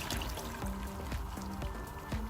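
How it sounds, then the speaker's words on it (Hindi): Boiled paya broth (yakhni) is poured from one cooking pot into another, making a continuous close liquid splash and trickle with repeated gurgling pulses. "अब शामिल कर देंगे जो हमने इसकी यखनी उबाली थी, ये आ जाएगी इसके अंदर"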